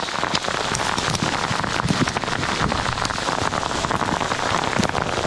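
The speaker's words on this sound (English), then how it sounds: "Oh, those hailstones." Hailstones pelt down during a mountain hike on Coma Pedrosa in Andorra, a dense, loud and continuous patter of close impacts with scattered sharper hits and no talking.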